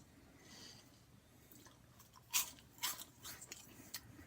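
Cheetos Bag of Bones corn puffs being bitten and chewed, a few crisp dry crunches close to the mouth after a quiet start, fairly soft overall.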